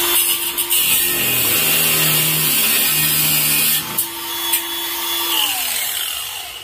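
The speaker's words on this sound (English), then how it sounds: "And I love using the cutoff wheels because the grinding wheels, you can't cut stuff." A cutoff wheel on a grinder slices through metal during a mini-chopper build, a loud high whine that drops in pitch as it bites, pauses briefly, then spins up and cuts again before winding down.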